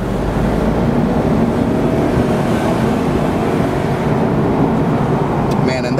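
A 2006 Mercedes-Benz SL500 R230 accelerating under throttle from inside the cabin, a loud, steady engine and road roar filling the whole stretch.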